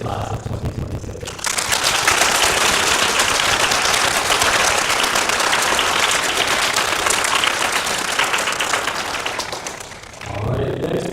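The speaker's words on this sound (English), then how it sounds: "let's give a final round of applause to the graduates of TSC's MA class of 2026" A graduating MA class of 2026 at a commencement ceremony receives a final round of applause. Dense, loud clapping from a large audience swells in after a brief pause, holds steady for several seconds, then tapers off.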